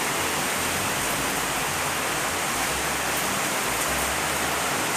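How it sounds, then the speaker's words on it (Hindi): Heavy rain pours down in a steady, dense, unbroken roar that fills the whole space, loud and close with no pauses. "बहुत तेज बारिश हो रही है, देखिए ना कितनी बारिश हो रही है।"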